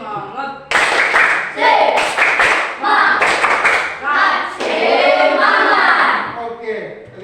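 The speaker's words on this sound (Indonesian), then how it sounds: "kita berikan semangat dengan tepuk semangat" A classroom of children performs the rhythmic 'tepuk semangat' spirit clap, bursts of loud hand claps in patterned groups with chanting voices mixed in.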